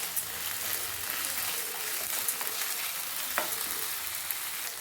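Chicken manchurian frying in a pan just after soy sauce and tomato sauce go in, a steady close sizzle running throughout with faint stirring scrapes and a brief clink near the end.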